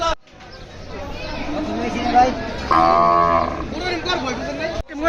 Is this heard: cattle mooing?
yes